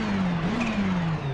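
Race car engine in a racing video game, a steady loud drone with a rising and falling pitch, carrying a faint high turbo flutter partway through, continuous with no talking.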